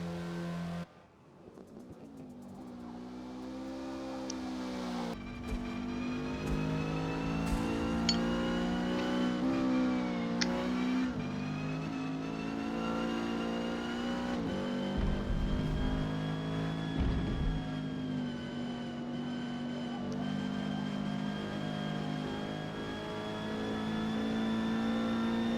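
A Renault 8 Gordini on soft tires accelerates through a qualifying lap at Catalunya in the video game Forza Motorsport. The engine sounds close and whines steadily, rising and falling through gear changes and revving across the run.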